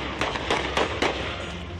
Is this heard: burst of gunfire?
yes